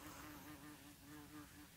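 A bee buzzes steadily with a droning hum, heard close in an autumn vegetable garden, continuous and faint for the whole moment with no talk.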